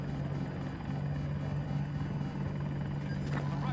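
A helicopter in the Battlefield video game drones continuously with a low rotor hum and engine rumble, moderately loud, with a brief sharper burst near the end.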